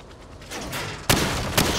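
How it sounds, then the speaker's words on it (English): Rifle fire at targets on a shooting range in Call of Duty 4: Modern Warfare on PC, a short burst of loud, close gunshots with sharp reports and a couple of strong cracks, mechanical clatter between shots. "Now, shoot at the targets while firing from the hip."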